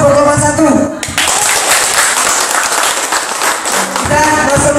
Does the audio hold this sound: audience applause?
yes